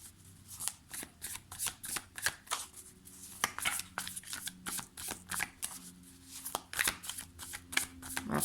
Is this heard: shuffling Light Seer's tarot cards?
yes